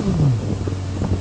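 Lexus LFA engine with a 9,000 RPM redline, a steady low drone that dips in pitch at the start and then holds level, close and continuous for about a second.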